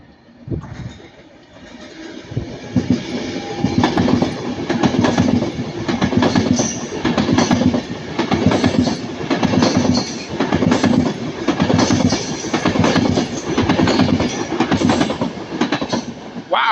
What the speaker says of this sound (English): passing by now is going to be 391-24 on his return, working 1 Alpha 42 from Manchester Piccadilly to Northampton